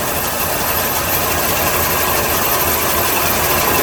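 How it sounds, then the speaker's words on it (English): A car engine with a 1981 GM Dual Jet carburetor idles after adjustment, giving a steady, loud, continuous drone with no pauses and no talking. "I just basically adjust it till I get the smoothest, highest idle, and then reset the base idle."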